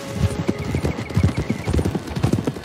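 Horses in the Red Dead Online video game clip-clop along at a steady walking rhythm, close and clear, with occasional faint whinny-like tones and no talk over the hoofbeats.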